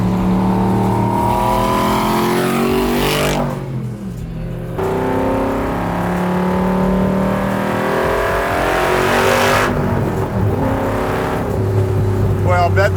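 Superformance MkIII Cobra R with a 5.2 Aluminator engine revs hard and close, pitch sweeping up and down through several loud pulls, with a brief dip between bursts and no one talking.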